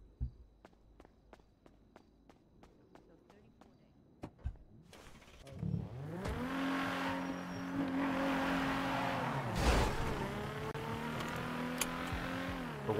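A car in a GTA roleplay session starts up after a run of quick footsteps, then its engine revs loudly and steadily, rising and falling in pitch as it drives, with tire noise.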